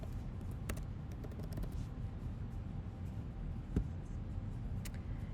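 Someone types a search into a computer keyboard during church production team training. Scattered soft key clicks sit over a steady background hum, with one sharper tap near the end.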